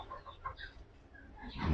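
Chickens in a coop cluck softly and intermittently, a few short calls close by with a louder rustle at the end.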